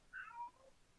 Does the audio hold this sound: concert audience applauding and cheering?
no